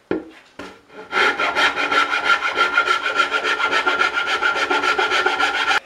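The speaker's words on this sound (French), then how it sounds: "j'y vais à la lime" Wood for a coffee table is worked with a hand file: two brief strokes, then a loud, continuous run of fast, rhythmic rasping close up, with no voices.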